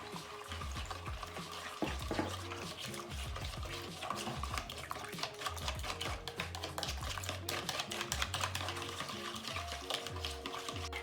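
Eggs with salt and milk whisked in a bowl, heard as quick, rapid clicking and tapping strokes, close and fairly quiet, in a brisk irregular rhythm without speech.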